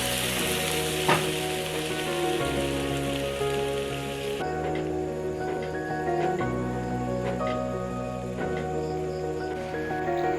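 Baby porridge left to boil down in a pot, a continuous dense bubbling and sizzling hiss, close and even throughout with faint tapping, no talking.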